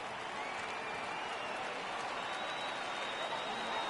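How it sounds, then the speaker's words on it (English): Steady, dense stadium crowd noise from a baseball video game, MLB The Show 18, swelling with a 3-2 count in the seventh inning with two runners on, a continuous roar of cheering and applause at constant loudness throughout. "Crowd gets up for the 3-2."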